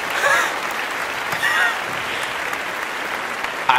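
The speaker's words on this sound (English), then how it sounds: "I know, hold the applause." An applause sound effect plays as a continuous, fairly loud wash of clapping with a few brief squeaky accents.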